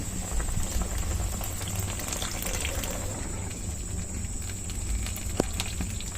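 Wild mamarang mushrooms with calamansi boil in a pot, a steady soft bubbling simmer with a faint high whine over it and an occasional small knock, close and quiet, with no talk.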